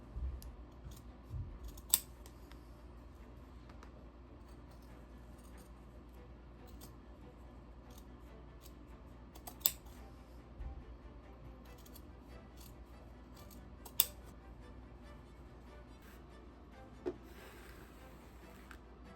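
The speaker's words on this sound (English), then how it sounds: "Now it's time to just trim the bits that I don't need" Scissors trim fabric for 1780s stays in a quiet room, a few crisp isolated snips spaced several seconds apart over a faint low hum, with no talking.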